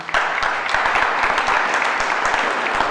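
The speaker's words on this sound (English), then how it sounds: "You can clap even better than that." An audience at a youth summit claps steadily, many hands making a dense patter with some sharper individual claps, sustained and fairly close.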